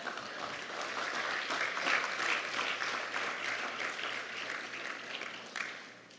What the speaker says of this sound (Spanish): Aplauda si quiere, pues.